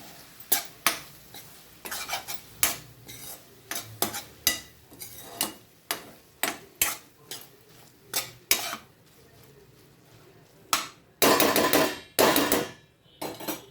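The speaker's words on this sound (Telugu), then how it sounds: "కొత్తిమీర వేసుకొని కలుపుకోవాలి." Metal spoon clanking and scraping against a pot while coriander is stirred into a ridge gourd and egg curry, a steady run of sharp, close knocks with a denser burst of clatter near the end, no talking.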